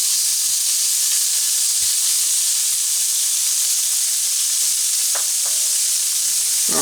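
Bacon pieces crisp in a pan over medium-high heat, giving a dense continuous sizzle with a few faint utensil taps and pops, close up and without voices.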